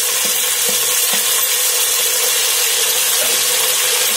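Vegetables frying in oil for a vegetable pulao, making a continuous loud sizzle with a few soft clinks of stirring, close and steady, with no talking.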